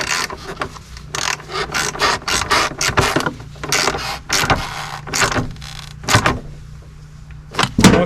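Ratcheting and metallic tightening sounds from a wrench securing a horn mount near the fan shroud of a Kubota LX2610 tractor, a series of close, irregular clicks and scrapes over a low steady hum.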